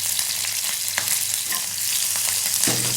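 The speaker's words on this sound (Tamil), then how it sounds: "வானலில் எண்ணெய் விட்டுக்கோங்க. எண்ணெய் காஞ்சதும் கடுகு, கடலைப்பருப்பு போட்டுக்கோங்க." Mustard seeds, chana dal, green chilli and curry leaves sizzle and crackle steadily in hot oil for a curd rice tempering, a continuous close frying hiss with small pops throughout.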